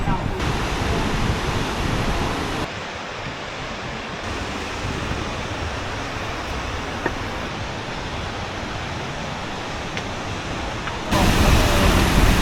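A waterfall at the Batad rice terraces roars as a steady, broad rush of water, with wind buffeting the microphone and the level dipping and rising as the recorder moves.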